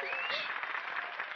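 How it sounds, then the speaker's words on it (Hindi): Audience applause after a dance performance, a short burst of steady clapping with light crowd murmur under a thin tone. "इनके लिए तालियां बजाइए।"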